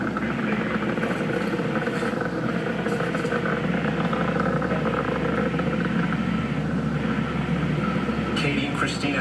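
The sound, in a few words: Falcon 9 rocket Merlin 1D engines roaring during launch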